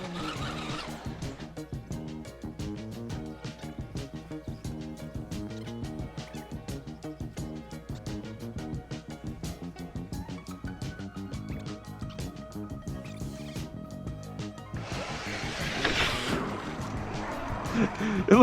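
An off-road truck drives through water on a trail, its engine droning steadily and close, with a burst of splashing and rushing water near the end.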